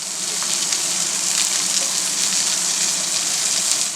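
Onion slivers sizzle steadily in a hot skillet for a smashburger, a close, even crackle and hiss with small pops and no talk.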